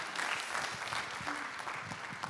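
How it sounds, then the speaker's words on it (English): An audience at a conference session applauds a speaker named Alison, a dense, fairly quiet wash of clapping that holds steady for a couple of seconds. "Huge round of applause for Alison."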